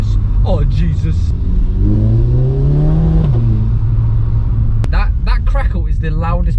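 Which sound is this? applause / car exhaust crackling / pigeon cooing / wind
car exhaust crackling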